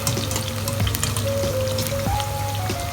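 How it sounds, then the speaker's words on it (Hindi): Brinjal (eggplant) pieces frying in hot oil give a steady close sizzle with faint pops and crackles throughout, loud and continuous with no voices. "ये देखिए हमारे बैगन फ्राई हो चुके हैं।"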